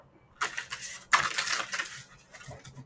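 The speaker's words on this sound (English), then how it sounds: "Let's shuffle a little bit." Tarot cards being shuffled close by, two bursts of crisp riffling and flicking, the second longer, with quiet gaps and no speech.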